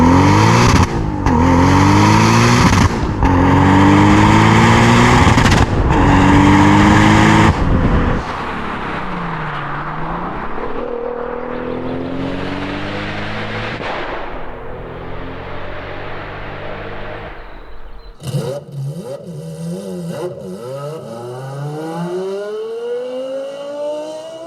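A tuned Audi A3 with a turbocharged 3.2-litre V6 making over 650 horsepower revs hard in loud pulsing bursts, then accelerates through rising gear pulls, its engine note climbing and dropping with turbo whoosh, no talk.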